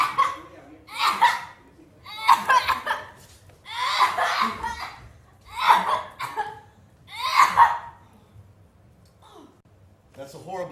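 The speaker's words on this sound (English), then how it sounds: "That's a horrible cough." A series of harsh, rasping coughs bursts out at irregular intervals, close and loud, with short pauses between fits.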